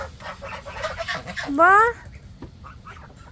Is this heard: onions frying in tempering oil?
no